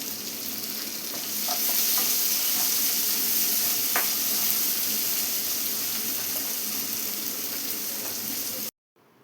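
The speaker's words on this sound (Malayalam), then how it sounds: "ഇപ്പോൾ തക്കാളിയെല്ലാം നന്നായി തന്നെ ഒന്ന് വഴറ്റിയെടുത്തിട്ടുണ്ട്." Chopped tomatoes sautéing in a pan for a thick drumstick leaf curry, giving a steady close sizzle with occasional stirring scrapes; the sound runs evenly throughout and cuts off abruptly at the very end.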